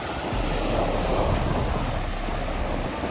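Surf from the cold Pacific Ocean on the New South Wales coast of Australia, a continuous broad roar of breaking waves mixed with wind buffeting the microphone, close and loud.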